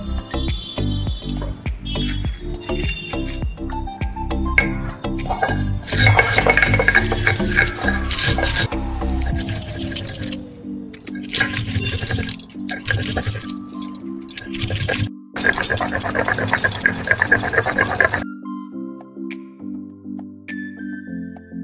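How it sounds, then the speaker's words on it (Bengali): A mixer grinder whirring as dried red and green chillies with mustard are ground into a spice paste, running in several loud rattling bursts with stops between, ending in quieter clattering. "আমি এই মশলাটা পুরো একসাথে বেটে নেব"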